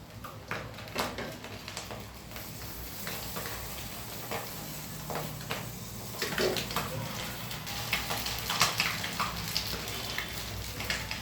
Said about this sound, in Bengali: এখন আমি নুডলস ঢেলে দিব।